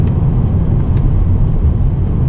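Inside a BMW 760Li E66 with a V12 engine and Alpina styling, held in a manually downshifted fourth gear, a loud steady low engine and road rumble fills the cabin with no talking.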